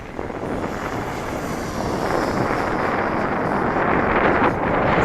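An Avanti S 80mm model jet flies by with a rising, whooshing turbine tone, heavily buffeted by microphone wind noise that swells slightly louder toward the end.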